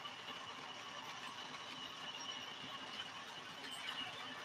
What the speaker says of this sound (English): Christmas diesel right here running for you guys.